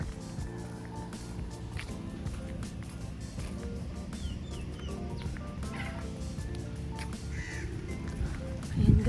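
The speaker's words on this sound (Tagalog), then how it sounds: "Ayan, maraming kalapate doon. Tapos may duck and may mga manok." Pigeons, chickens and ducks on a farm make a steady, busy chorus of cooing, clucking and scattered calls over a dense low rumble, with faint background voices.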